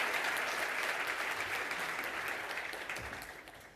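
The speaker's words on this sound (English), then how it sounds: "Please give her a round of applause." Round of applause from an audience at a soft robotics demonstration, a dense wash of clapping that stays strong and then gradually fades out.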